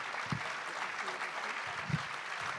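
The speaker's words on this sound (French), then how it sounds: "je vous propose d'applaudir bien fort nos intervenants une dernière fois" A conference audience at a national congress applauds the speakers, a dense, fairly faint wash of clapping that carries on throughout, with a voice briefly audible over it.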